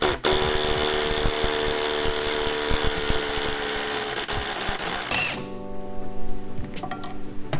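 Old suspension knuckle bushings on a 1JZ-swapped S14 240SX being pressed out with a GKtech bolt-and-cup bushing tool driven by a power tool, a loud continuous buzzing whine with rattling that cuts off abruptly, leaving a lower hum and clanks.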